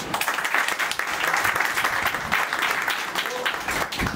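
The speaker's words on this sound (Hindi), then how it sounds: "परिवार के लिए ताली जाओ" An assembled congregation at a Jain temple in Gurugram breaks into applause, a dense, crackling patter of many hands lasting several seconds, with a few voices faintly mixed in.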